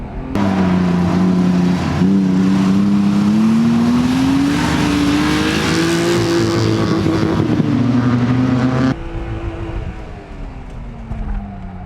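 A BMW E36 M3 slicktop engine drones loudly and steadily from close by as the car is driven hard, the pitch rising and falling with the throttle before dropping off sharply near the end.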